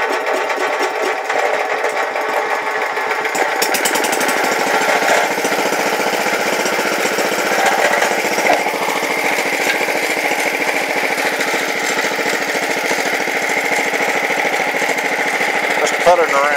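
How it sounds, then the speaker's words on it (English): A KTM 701 motorcycle with a freshly swapped engine putters along on a dark ride, a steady close engine drone running continuously throughout with slight rises in pitch, loud and unbroken. "we're going to take this 701 on a ride with a new motor"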